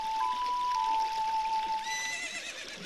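Epona, the horse in the video game The Legend of Zelda: Ocarina of Time, neighs in a drawn-out, steady whinny lasting about two seconds over constant background game ambience, with no talking.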